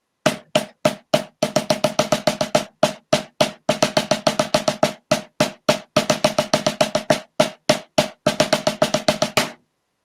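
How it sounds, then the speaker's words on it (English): A drum played in evenly spaced single-stroke eighth notes, then shifting to quicker double-stroke sixteenth notes in a steady rhythm, clear and close with no talk. "So single stroke 8th notes, double stroke 16th notes. So that's going to sound like this."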